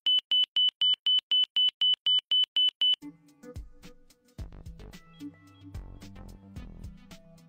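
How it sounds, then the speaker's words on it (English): Instrument landing system inner marker beacon tone: a rapid, even train of about a dozen loud high-pitched dots for three seconds, then cut off as unrelated mixed sounds follow. "The marker's audio signal is a repeated Morse style dot at 3 kHz."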